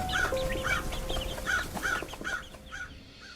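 A flock of crows caws repeatedly in a rural village at night, a run of about six harsh, evenly spaced calls close by, fading at the end.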